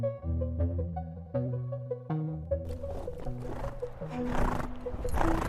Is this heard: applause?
no